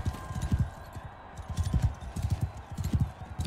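Horse hooves clip-clopping in a steady, close, moderately loud rhythm from a mounted rider in the medieval combat game Mount & Blade II: Bannerlord, heard alone without speech.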